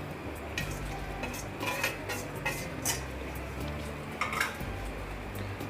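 Boiled pasta and sweet corn are stirred in a pan for a creamy veggie pasta, with repeated scraping and clinking of a utensil against the pan over a low, steady cooking hiss.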